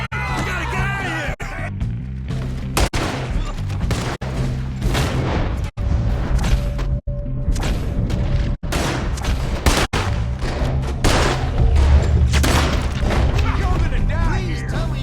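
A video game shootout in Red Dead Redemption 2 fills the scene with loud, dense gunfire and heavy booms, sharp cracks punching through continuously while shouted voices and screams carry over the chaos.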